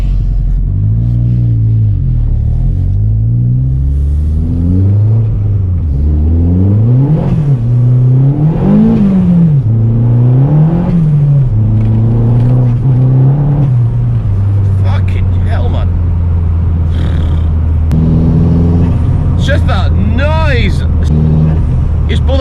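A turbocharged Corsa B with a C20LET engine rises and falls through several revs, then holds a steady loud drone with a rushing whoosh from the turbo near the end. No one talks.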